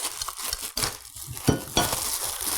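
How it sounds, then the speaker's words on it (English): An all-metal whisk from an 8.5-quart tilt-head stand mixer is handled at close range, making light metallic clinks and rattles mixed with soft rustling and packaging noise. "That's an all metal whisk."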